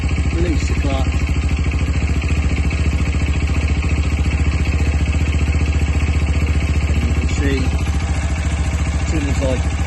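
A Sinnis Terrain 125cc motorcycle engine runs steadily in gear with the clutch released and the back wheel raised, a close, even single-cylinder chug that continues throughout with faint chirps over it.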